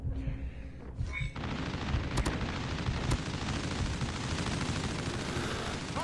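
Rapid automatic gunfire from a Call of Duty Mobile match rattles on continuously for several seconds, dense and loud, with a brief quieter lead-in and a few sharp higher clicks cutting through the barrage.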